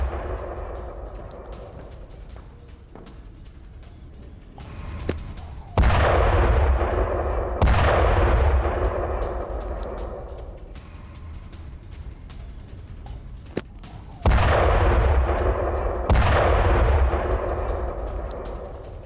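Back-to-back explosions from a night missile attack on Sevastopol, Crimea boom in heavy, rumbling blasts, four big detonations in two pairs with long decaying echoes over a low background drone.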